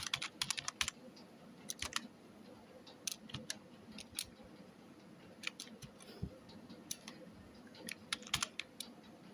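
Java code typed on a computer keyboard, a quiet, irregular run of close key clicks and taps in short bursts with brief pauses, no talking.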